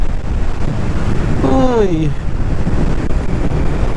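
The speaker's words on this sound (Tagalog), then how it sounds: "Sobrang lakas ng hangin oh." Strong wind roars and buffets the microphone steadily throughout on a mountain road in northern Luzon, Philippines, with a short exclamation from a voice partway through.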